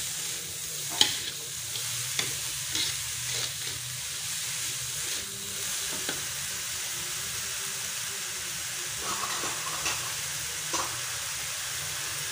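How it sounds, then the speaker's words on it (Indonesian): Bean sprouts and scrambled egg stir-fried in a pan, with a steady sizzle and hiss and intermittent scraping and clinking of a spatula stirring the food, close by with no talk. "Lalu kita aduk-aduk lagi ya, sampai bumbunya meresap."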